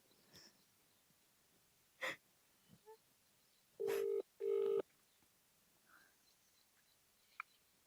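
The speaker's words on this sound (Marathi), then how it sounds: "मी ना माझ्या आजीलाच फोन लावते आता." Two loud, steady dialing tones in a row, each lasting under half a second, with a few faint clicks and small noises around them in an otherwise quiet room.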